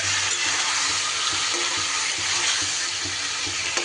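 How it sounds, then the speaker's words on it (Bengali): Chicken sizzles and fries in a hot pan while being stirred, a close, steady crackle with scraping stir strokes and no voices. "চিকেনটা দিয়ে একটু সময় নাড়িয়ে চাড়িয়ে নিতে হবে।"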